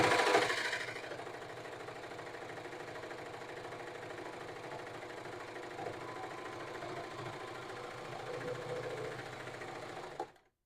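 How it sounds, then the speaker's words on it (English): A serger, or overlocker, runs steadily for about ten seconds, stitching and trimming a fabric edge with a fast, even mechanical whir, then stops abruptly. "watch now what happens if I move my fabric over a little bit"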